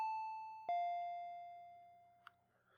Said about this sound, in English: I heard the doorbell ringing.